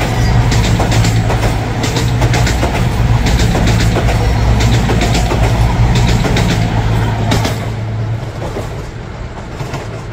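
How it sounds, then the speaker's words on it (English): A Cross Country Voyager train races through a small mainline station, a loud, close, continuous roar with rhythmic wheel clatter over the rails that eases slightly toward the end. "Cross Country Voyager. Coming in at speed!"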